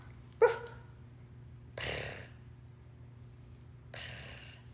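A parrot imitates a dog barking, giving a few short, sharp bark-like yaps spaced apart over a quiet background hum.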